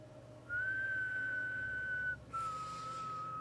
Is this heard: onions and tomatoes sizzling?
no